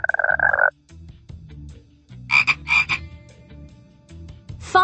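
Frogs croak in close, loud bursts: a rapid trilling call, then pairs of deeper, throaty croaks with quieter grunts between, no voices.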